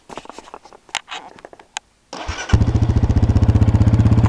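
A Honda CRF230F dirt bike with its exhaust uncorked is kicked over and catches, settling into a loud, close, choppy idle, after a stretch of scattered handling noises and clicks.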